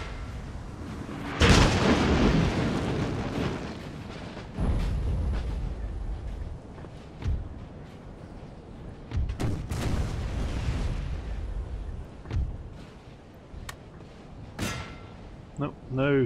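Howitzer artillery fire in Napoleon Total War, heavy booms landing at irregular intervals, some close and loud and others more distant, under someone talking.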